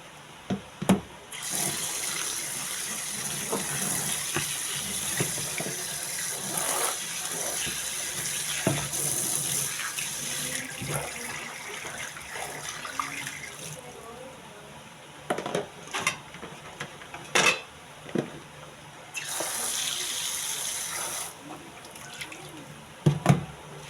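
Tap water runs steadily into a container to soak eggplant in a home kitchen, a continuous splashing stream that stops briefly partway through, with scattered clatters and handling noises.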